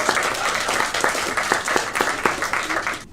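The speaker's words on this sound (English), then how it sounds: "Clap if you relate." A live audience at a comedy podcast taping claps in response to a joke, a fairly loud burst of many hands with distinct sharp slaps that runs for about three seconds and then stops abruptly.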